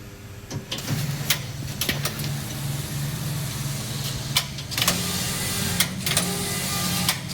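A collar knitting machine knits tubular rows, front and back in turn, producing a faint mechanical hum broken by repeated sharp clacks as the carriage moves back and forth.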